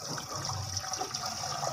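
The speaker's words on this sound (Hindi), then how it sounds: "और फिर इसमें पानी डालेंगे" Water pours steadily into a cooking pot that holds spices beneath a grill rack, for steam-roasting chicken; a faint, continuous splashing gush.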